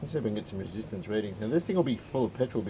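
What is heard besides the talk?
No everyday noise stands out behind the speech.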